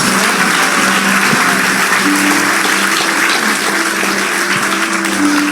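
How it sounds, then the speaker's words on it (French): A church congregation applauding to acclaim the Lord: dense, loud, continuous clapping from many people filling the space, with faint sustained tones underneath throughout. "Je pense qu'on peut acclamer le Seigneur."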